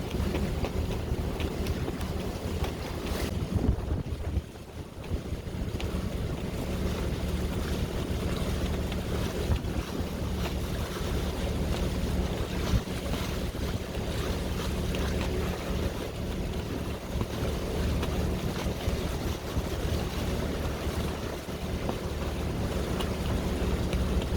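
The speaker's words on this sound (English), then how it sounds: "Very wavy and bouncy and windy through here." On a boat on the Mississippi, gusty wind buffets the microphone over a constant low engine and water rumble, with choppy waves slapping the hull throughout; fairly quiet overall, no voices.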